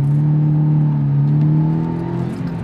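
A Subaru Impreza 2.0R engine with an electronic accelerator holds a steady, loud, close rev that drifts slightly in pitch and eases off at the end, with no talking over it.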